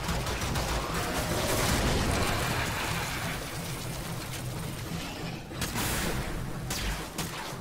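A heavy blast from the Attica weapon in Warframe sets off a loud, sustained rumble of explosive and gunfire-like noise, with sharp bursts recurring toward the end.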